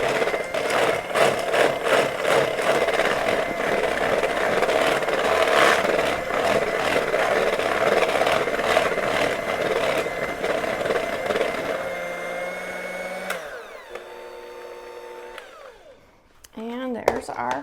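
An electric mixer beats frosting for an Easter bunny cake with a steady, close motor whir and scraping texture, slowing and stopping near the end.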